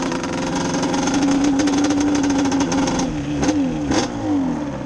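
A Cub Cadet 421 engine revs hard while climbing a small hill. The tone is loud, buzzing and continuous, with pitch rising and wavering under load before dipping and surging near the end.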